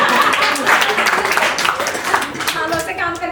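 Close, lively audience clapping at a community performance event, rhythmic applause with voices and chatter mixed in throughout.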